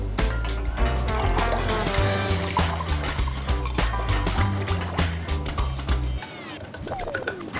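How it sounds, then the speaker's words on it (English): Water poured from a cup into a cooking pot of sweet potatoes and vegetable sauce on the stove, a close gurgling, splashing stream lasting several seconds over a low rumbling hum before trailing off. "I'm going to add some water."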